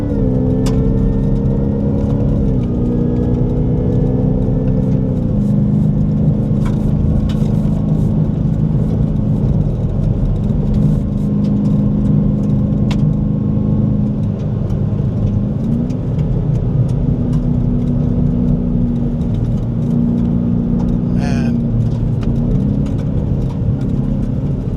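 A Ford Raptor R truck drifting on a dirt trail roars loudly and continuously, its engine revving through several rising and falling gear shifts, close and sustained with faint wind and road noise.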